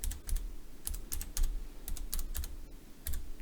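Computer keyboard typing, a short run of light key clicks in small clusters, close and quiet, no voices.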